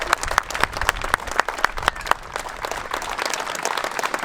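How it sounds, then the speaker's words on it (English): A crowd at a golf gathering applauds the warriors, starting with loud, distinct separate claps that thicken into steady, dense clapping close by. "One please, round of applause as they recover back to their stations."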